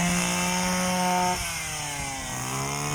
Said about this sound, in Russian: тут так траву косить, такой шум, ужас.